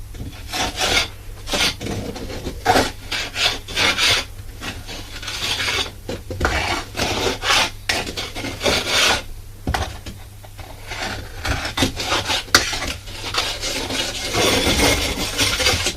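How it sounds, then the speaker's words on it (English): A trowel scraping and pushing mortar material up into a brickwork cavity, heard as close, repeated rasping and rubbing strokes with short pauses between them, with no talking. "taking the trowel and material, and just pushing it straight up the lip into the cavity."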